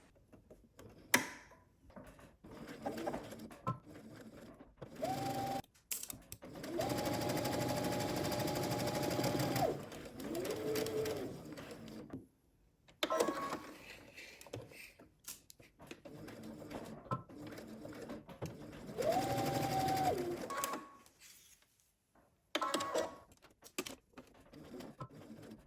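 A sewing machine stitches a seam with a 3/8-inch allowance in several separate runs of rapid, even whirring, each lasting a few seconds and split by quiet pauses, heard up close.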